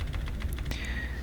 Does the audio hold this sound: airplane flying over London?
no